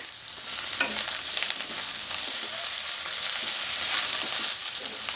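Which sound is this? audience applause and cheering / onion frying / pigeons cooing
onion frying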